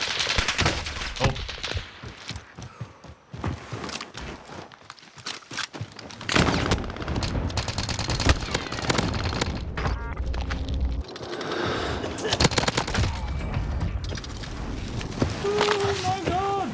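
Call of Duty gunfire rattles in fast bursts over busy game noise. A voice talks and exclaims over the shooting throughout.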